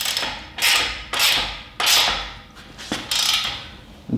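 A 5/8 ratchet wrench tightens a bolt while a 2-ton folding shop crane engine hoist is assembled, giving several close, loud rasping bursts of ratcheting at a steady stroke-by-stroke rhythm with short pauses between.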